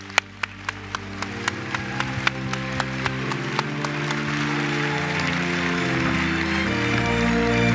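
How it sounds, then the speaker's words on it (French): An audience at an awards evening for the 2024 laureates gives a rhythmic clap in unison that speeds up, then dissolves into a dense, sustained wash of applause. There is no speech. "Applaudissez-les encore un peu plus fort, s'il vous plaît"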